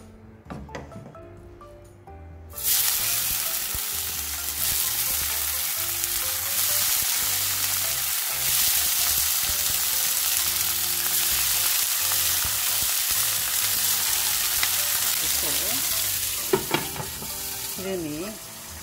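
Thick slices of tofu pan-frying in cooking oil, a loud, steady sizzle that bursts in suddenly and crackles continuously close by before settling slightly near the end.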